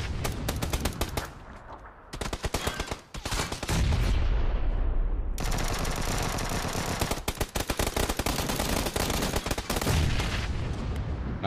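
Rapid automatic gunfire and sustained fusillades in the battle-royale game PUBG during squad play, loud dense bursts of overlapping shots with brief lulls, close and continuous through most of the stretch.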